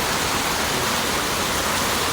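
Heavy rain pours steadily as a loud, dense wash of noise, constant throughout with no gaps or other sounds.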